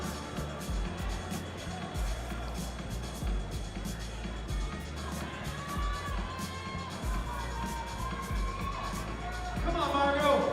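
A crowd at a climbing competition cheers and shouts continuously, with a commentator's voice running over it and some whistles and whoops near the end.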